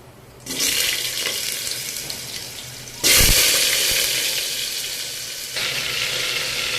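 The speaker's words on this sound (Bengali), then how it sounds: "এবারে আঁচটা কমিয়ে আমি সবজিগুলোকে তেলের মধ্যে ছেড়ে দিচ্ছি।" Vegetables are dropped into hot oil for vegetable khichuri, bursting into a loud, close sizzle that surges again twice as more go in and then keeps hissing steadily.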